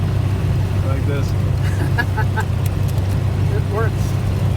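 A 1930 Nash 420 Standard Sedan antique car engine running steadily with a loud, constant low rumble, while people talk over it inside the car.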